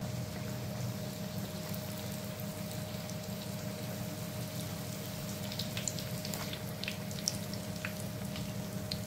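Makhmal puris sizzling as they fry in hot oil, a steady, dense crackle and hiss that holds even throughout, close and moderately quiet, with no talking.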